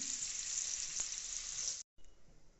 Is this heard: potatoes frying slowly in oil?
yes